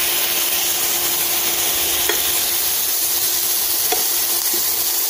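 Freshly flipped turkey breast fries in a skillet with a loud, continuous, close-up sizzle, plus a couple of brief scraping taps and no voices.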